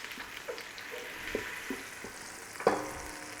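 Onions, celery and garlic sizzling in a pan for vegetable barley soup, a soft steady fry broken by several scraping stirs, the last one louder, close up with no talking.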